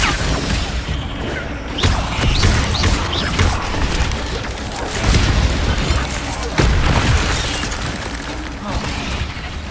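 Repeated fire spell casts in Hogwarts Legacy during a spider fight, a steady roar of whooshing, crackling bursts and deep booms layered with combat noise, loud and continuous.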